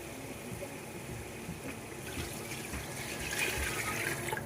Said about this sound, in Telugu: సో వాటర్ అయితే పోసుకుందాం